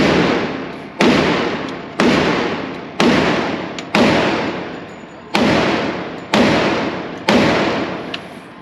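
Eight loud, sharp reports from a Smith & Wesson M&P 2.0 10mm pistol, fired outdoors at a steady pace about one per second, each shot ringing off in a decaying tail.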